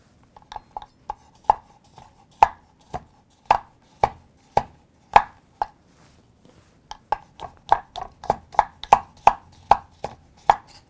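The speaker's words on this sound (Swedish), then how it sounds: "Under tiden hackar vi chokladen." Knife chopping chocolate on a board for gingerbread truffles, a long series of sharp close taps in irregular bursts, some faster runs and short pauses, alone without talk.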